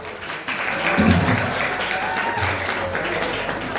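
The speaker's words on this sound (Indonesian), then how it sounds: "Tepuk tangan." Audience applause at an Arabic calligraphy workshop in a high school, a steady wash of clapping lasting several seconds with voices mixed in.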